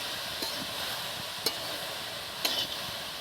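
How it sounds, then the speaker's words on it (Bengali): Mankochu, a curry of taro stalks, stirred in a pan after salt goes in: a steady soft sizzle with three brief scraping strokes of a spoon against the pan, no talking. "লবণটা দিয়ে নাড়া করে দিয়ে"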